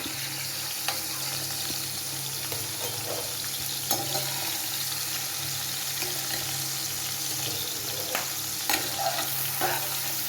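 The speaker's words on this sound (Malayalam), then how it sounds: "ക്യാരറ്റും ജസ്റ്റ് എണ്ണയ്ക്കകത്തിട്ടൊന്ന് ഇളക്കി കോരി ആ ജലാംശം ഒന്ന് പൊട്ടി തീരുമ്പോഴത്തേനും" Carrots stirred in hot oil for a pickle give a steady, dense sizzle and crackle of frying throughout, with occasional scrapes of stirring and no voices.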